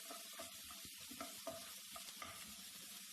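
Chopped onion sautéing with horse gram dal in a pan for kollu adai, a quiet continuous sizzle punctuated by soft scraping clicks of stirring, faint and close, with no talking.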